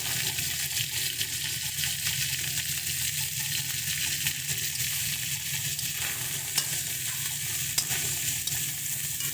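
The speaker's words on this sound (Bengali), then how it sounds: "ভালো করে মাছটাকে ভেজে নেব" Dried shutki fish with salt and turmeric frying in oil, a steady loud sizzle with faint stirring clicks throughout, no voices.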